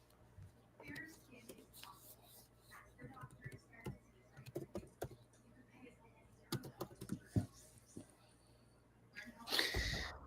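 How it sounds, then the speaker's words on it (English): Fingers tapping on a computer keyboard in irregular quick bursts of clicks, close up, with soft background murmur and a louder rustle near the end. "Let me type it in here."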